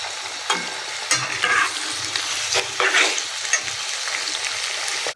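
Quail meat with chopped garlic sizzles in a pan while a spatula stirs and scrapes it in several bursts, close up and steady, and nobody speaks.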